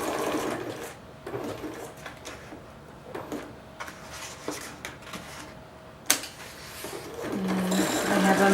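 Sewing machine stitching along the edge of a paper envelope, quick stuttering bursts of needle clatter starting and stopping, with small clicks and a louder hum toward the end.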